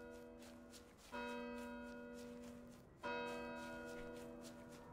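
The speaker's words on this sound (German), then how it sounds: "es läuten auch noch die Glocken." Church bells ring near the Hohenzollern Bridge in Cologne in the video game Train Sim World 3, two resonant strikes about two seconds apart, each leaving a long shimmering decay over a quiet background.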